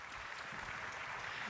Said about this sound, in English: Clearly, I'm going to clap to that.